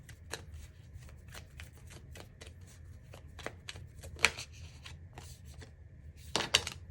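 Tarot cards being shuffled and drawn by hand, a run of soft riffling flicks and rubs with a couple of sharper snaps near the end, close and fairly quiet with no talking.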